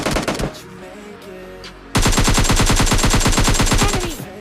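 Rapid automatic gunfire in the battle royale game PUBG Lite, loud and close: a brief burst at the start, a pause with faint background game sounds, then a long sustained stream of rhythmic shots that stops near the end.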